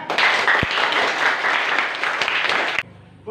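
Classroom applause from students, a dense steady burst of clapping that fills the room and then stops abruptly near the end, leaving quiet.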